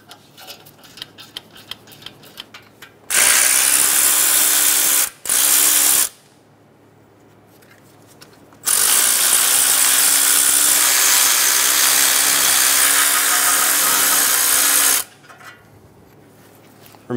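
An electric impact tool works the catalytic converter nuts on a 2003-2007 Honda Accord exhaust in loud, close bursts: a short three-second run, a brief pause, another short run, then a longer six-second hammering stretch, with quiet handling gaps between.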